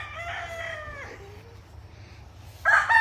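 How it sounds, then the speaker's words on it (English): An Asil rooster crows once, loud and close, the call trailing off, followed by a brief burst of sharp clucking. "Let me grab this rooster real quick."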